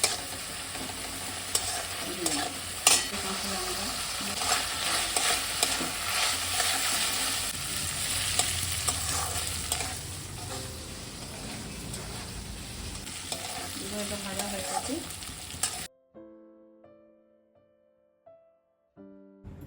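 Sliced onion and soaked poppy seeds fry in a pan, a constant close sizzle punctuated by stirring scrapes for about sixteen seconds before the heat noise cuts off into near quiet.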